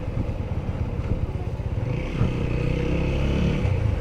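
A Honda sports tourer motorcycle engine droning steadily while riding on a festival road trip, a close, loud hum with some wind and road clatter and a slight rise in revs midway.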